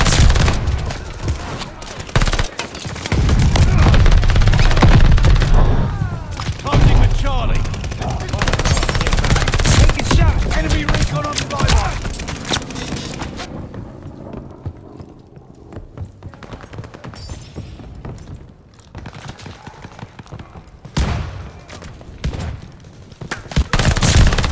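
PPSh submachine gun in Call of Duty: Vanguard firing long, rapid automatic bursts up close, with other gunfire and explosions around it. The fire thins out midway and then picks up again near the end.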